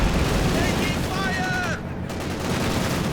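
Incendiary artillery barrages rain down in a Company of Heroes 2 match, a loud, constant wash of blasts and crackling fire with faint whistling streaks overhead.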